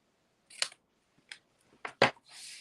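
Scissors snipping a paper sentiment strip for a handmade card, a few short sharp cuts in separate bursts, close and quiet with silence between them.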